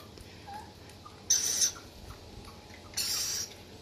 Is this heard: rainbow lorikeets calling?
yes